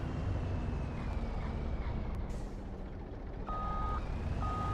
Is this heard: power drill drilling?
no